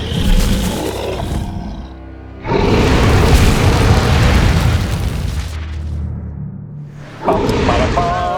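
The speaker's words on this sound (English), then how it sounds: "12 explosions happen and explodes the entranceways" Loud booming blasts from a dark fantasy tabletop session, a series of explosions blowing up entranceways, with two long roaring bursts separated by quieter rumbling and a final swelling rumble.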